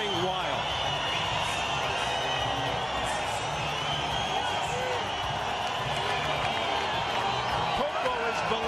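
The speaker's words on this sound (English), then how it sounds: "Crowd going wild." A boxing arena crowd roars and cheers wildly for Brazilian fighter Acelino Freitas at his bout with Jorge Barrios, a dense, loud, continuous wall of voices and whoops that never lets up.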